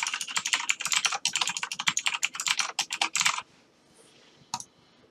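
Rapid bursts of keystrokes on a computer keyboard while a username and password are entered during Windows setup, dense clattering typing for about three seconds, then a pause and a single short tap.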